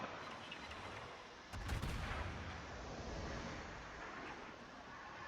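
The USS Annapolis fires its naval guns in World of Warships: a single loud, heavy shot stands out over a constant roaring wind-like wash of battle ambience.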